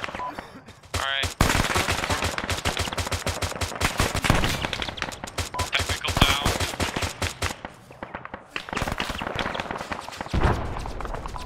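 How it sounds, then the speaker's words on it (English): Rapid gunfire bursts crackle at close range during a night-time airsoft field training exercise around a compound, dense volleys repeating almost continuously with brief pauses, voices mixed in among the shots. "I'm getting tracer fire from the south."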